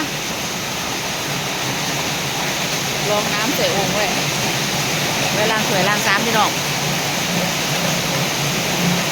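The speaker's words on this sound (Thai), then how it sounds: "ฝนตกหนัก ฝนตกแห้งหลายจ้ะ" Heavy rain falls in a continuous loud wash while someone speaks faintly partway through, her voice partly buried beneath the steady downpour.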